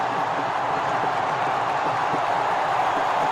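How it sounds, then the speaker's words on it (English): Large cricket stadium crowd at an India vs New Zealand Champions Trophy final holds a steady, loud roar of cheering throughout, dense and continuous with no breaks. "That's now the crowd beginning to cheer."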